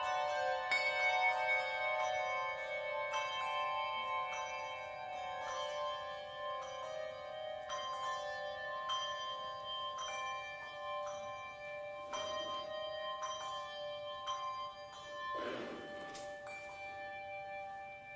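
Church bells ring on and on during a Sunday service, their strikes overlapping into a shimmering wash of long sustained tones that slowly thins, with a few soft thuds and rustles near the end.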